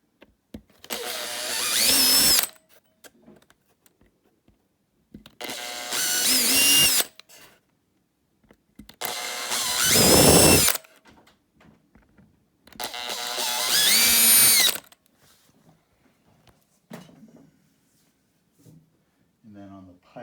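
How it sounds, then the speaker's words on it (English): A small power drill with a number 50 bit whines in four short bursts of about two seconds each, separated by quiet pauses with light handling noises. "So I'm drilling these with a number 50"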